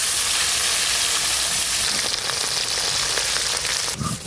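Large fish fry in oil in a kadai, giving a loud, close, continuous sizzle and crackle that hisses throughout with only slight shifts in intensity.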